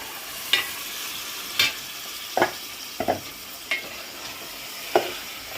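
Fish pieces drop into frying masala paste in a pan, giving a soft continuous sizzle broken by six or seven sharp stirring scrapes and clinks at irregular intervals, close and clear without voices.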